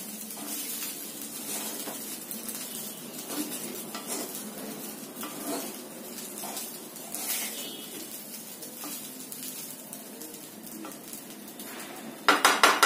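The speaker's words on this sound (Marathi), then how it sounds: "जिरा पण या राईस राईसमध्ये मिक्स करून घेणार आहोत व्यवस्थित." Cumin seeds are stirred through cooked rice in a pan for restaurant-style jeera rice, with a steady dense scraping and rustling texture throughout and a louder clatter of utensil on pan at the end.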